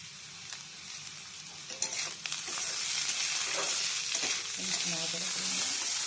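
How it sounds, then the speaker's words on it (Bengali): Chopped vegetables with green chilli and coriander sizzle and fry in a wok for vegetable Maggi noodles, a loud, steady crackle broken by scraping stirs of a spatula, with no talk. "সবজিগুলি এবার ভাজা হচ্ছে কড়াইতে"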